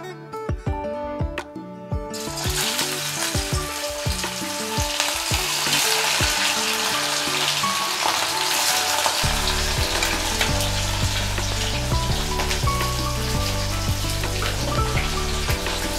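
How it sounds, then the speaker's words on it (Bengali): Fish pieces for katla kalia hit smoking-hot oil in a wok, a few sharp clatters at first, then a loud, steady, close sizzle and crackle that continues throughout over a medium-to-high gas flame, with no voices. "এবার আমি তেলের মধ্যে মাছগুলো দিয়ে দিচ্ছি।"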